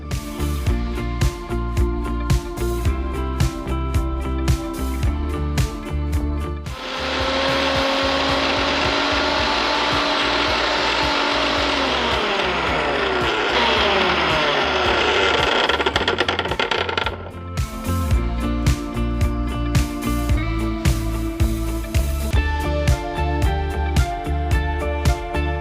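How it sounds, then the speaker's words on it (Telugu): A kitchen mixer grinder runs for about ten seconds, grinding sprouts, spinach, green chili and ginger into a batter for palak sprouts idli, with a loud steady whir that rises above the background music. "ఇది మిక్సీ పట్టాను."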